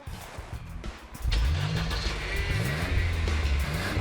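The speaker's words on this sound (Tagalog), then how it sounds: "Sige sir, try mo i-start ulit." A car engine cranks and catches after a starter motor repair, then settles into a steady, loud idle close by, with faint background noise before it fires.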